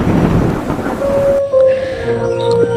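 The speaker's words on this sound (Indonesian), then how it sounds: "Rumah yang mengadakan pesta tadi pun disambar petir" A thunderstorm with a lightning strike, loud rain roaring, then a sharp cut to a calmer stretch with lingering rumble and sustained tones, no voices.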